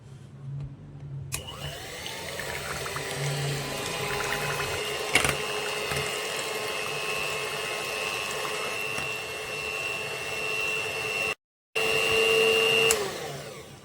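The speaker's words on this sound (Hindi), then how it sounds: "इसको मैं अब बीटर के साथ बहुत ही अच्छे तरीके से बीट कर लूंगी।" An electric hand beater whips cream for homemade mango ice cream with a steady, loud motor whine and churning, holding constant for about ten seconds, briefly cutting out, then resuming.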